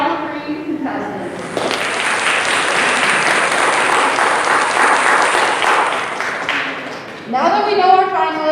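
An audience at a high school bachelor pageant applauds its final three contestants, dense steady clapping lasting several seconds, bracketed by a voice before and after.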